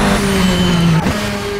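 A 425 horsepower race car mod lapping the Nordschleife in Assetto Corsa, its engine droning loud and close with a steady high whine, then dropping pitch as it shifts or lifts near the one-second mark.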